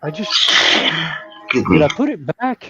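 A single human sneeze bursts out at the start, followed by a brief pause and then a person talking nearby in a casual indoor hobby gathering.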